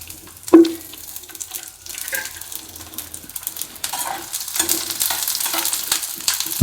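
Onion and tomato sauté in a pan with a soft, steady sizzle, broken by a sharp clatter early on and stirring scrapes throughout.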